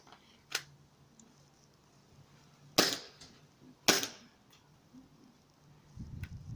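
Glock 17 airsoft pistol firing, four sharp snapping shots spaced about a second apart, close and crisp against a quiet background.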